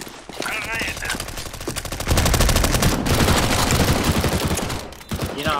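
Loud, close automatic gunfire in a Counter-Strike: Global Offensive competitive match, with rapid rattling bursts building into a dense sustained volley before cutting off near the end.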